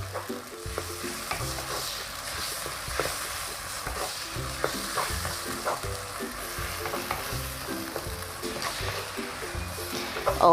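Minced pork soy sauce being stir-fried and simmered with a splash of stock in a pan for fried tofu, with repeated rhythmic stirring strokes and scrapes over a steady bubbling sizzle, close and continuous, with no one speaking.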